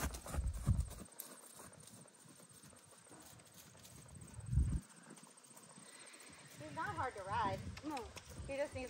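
A horse trotting in a round pen, with hooves clip-clopping quietly in rhythm under people talking nearby, and a few louder thuds mixed in.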